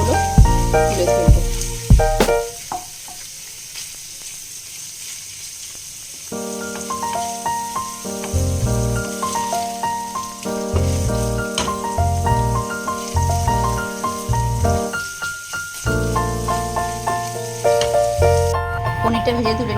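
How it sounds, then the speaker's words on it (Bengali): Paneer cubes frying one by one in oil with a spoon of ghee, a steady loud sizzle running throughout with some stirring, and a musical background playing over it. "পনিরগুলো ভেজে নেব।"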